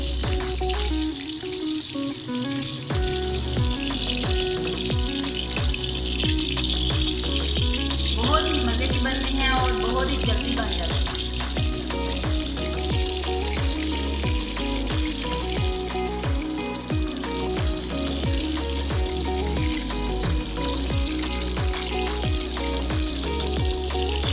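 Chicken pakora frying in hot oil over a medium flame, a loud, dense, continuous sizzle and crackle with a steady rhythmic pulse of bubbling, heard up close without speech.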